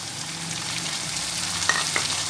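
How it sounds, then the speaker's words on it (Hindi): Tomatoes and garlic fry in a pan with a steady, close sizzle, broken by a couple of brief clinks from stirring. "अब इसके अंदर टमाटर डाल देते हैं"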